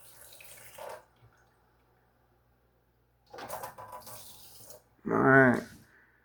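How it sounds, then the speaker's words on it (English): Cold water running from a kitchen faucet fed through an under-sink ultra-filtration purifier, coming in short bursts of splashing flow separated by quiet gaps, with a brief voice near the end. "Here's the faucet. Cold water."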